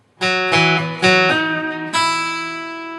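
A guitar plays a slow lick from a song: a handful of plucked notes spaced out unhurriedly, each ringing into the next, ending on a sustained note.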